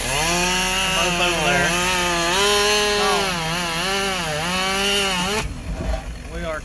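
A chainsaw whines loudly nearby at a sawmill job near Nashville, Tennessee, its pitch rising and falling as it bites through logs, then cuts off abruptly; a voice speaks briefly over it.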